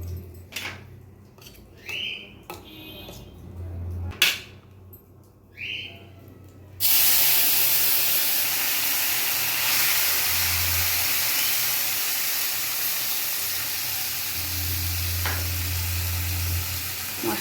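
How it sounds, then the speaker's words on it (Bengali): Spices mixed with a little water hit hot oil, bay leaf and white cumin already in the pan, for a Bengali cauliflower, potato and fish curry, bursting into a loud, steady sizzle that hisses on after a few quiet kitchen clinks. "এখন আমি তেলে একে একে মশলা দিয়ে দেবো।"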